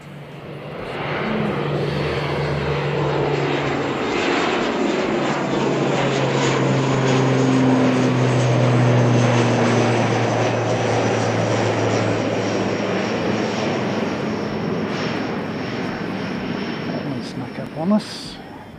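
An airplane taking off at Christchurch Airport, New Zealand, with a loud, steady engine roar that swells and holds for many seconds, then eases as it climbs away.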